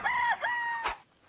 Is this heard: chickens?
yes